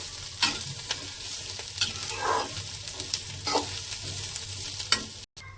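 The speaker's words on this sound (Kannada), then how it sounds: "ಅಮ್ಮ ಒಂದು 2 ನಿಮಿಷ ಫ್ರೈ ಮಾಡಿಕೊಂಡ್ರು" Ash gourd peels fry in a pan for chutney, a steady sizzle broken by repeated scraping and clicking as a spoon stirs them, ending in a brief clatter.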